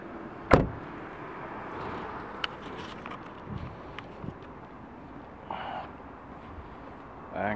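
A sharp click and thunk as an electric car's charging flap pops open, followed by quieter handling clicks and faint outdoor hum.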